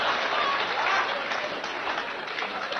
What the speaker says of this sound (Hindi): इस स्कीम पर तो बुजुर्गों ने सबसे ज्यादा तालियां बजाई